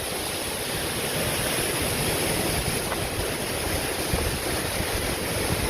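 A river running high under a bridge in Damascus, a steady broad rushing roar of fast water, continuous and close throughout.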